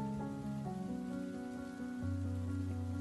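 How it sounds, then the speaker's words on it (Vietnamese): Heavy rain in a steady, continuous downpour, a dense wash of falling water heard alone without any voices, with sustained tonal layers running underneath the hiss throughout. "Mưa to quá, may mà không ướt tập bản thảo."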